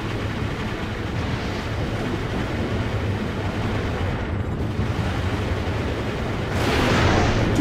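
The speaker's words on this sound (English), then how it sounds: "that was a simultaneous explosion" Dense, rumbling explosions in the video game Armored Core 4 Answer, a continuous roaring blast texture that swells louder near the end.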